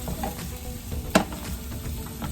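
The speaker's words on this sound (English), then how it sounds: "while those are sauteing together" Food sautéing in a pan over medium heat for turmeric rice: a steady, close sizzle runs throughout, broken by one brief clink near the middle, with no talking.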